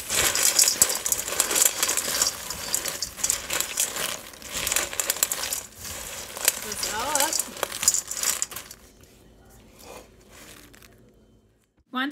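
Animal crackers and trail mix pieces tossed and stirred together, giving a steady dry rattling and crinkling clatter up close that fades to near silence at the end.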